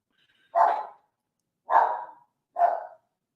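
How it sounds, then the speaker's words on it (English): Three separate, loud dog barks spaced about a second apart, close by indoors, with silence between them and no talking. "Dogs are going crazy"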